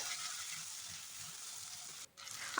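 Two medium tomatoes with a pinch of salt frying in a pan for vegetarian chana masala, giving a faint, steady sizzling hiss that briefly drops out near the end.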